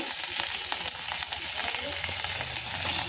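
Spices fry in a pan with salt and turmeric powder for a mustard-pabda fish curry, a close, continuous sizzle with small crackles and stirring noises. No voices come through.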